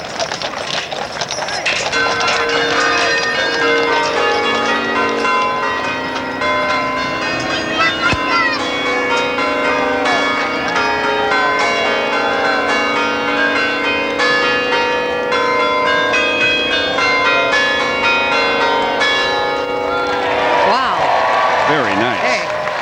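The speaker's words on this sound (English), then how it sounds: "the sounds of the Ringling Brothers Bell Wagon of 1892" The 1892 Ringling Brothers Bell Wagon, carrying nine large bells weighing 4,300 pounds in total, rings out a loud, sustained peal of overlapping tones during an outdoor circus parade, with crowd noise underneath and a brief fade near the end.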